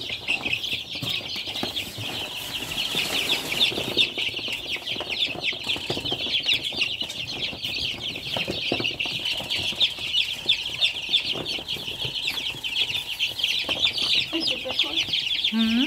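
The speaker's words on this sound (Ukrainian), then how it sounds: "Тут з корівками проживатимуть курчата, які приїхали з Чернівців разом з карликовими курочками." Bantam hens and chicks from Chernivtsi clucking and peeping continuously in a barn shared with cows, a busy steady chatter of many small birds.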